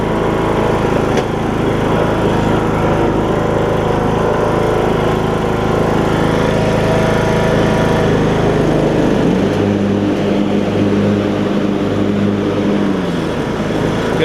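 An MTD Craftsman-type riding lawn mower runs with its blades engaged, giving a loud, steady, droning engine roar close by. The pitch shifts slightly partway through, and no one talks.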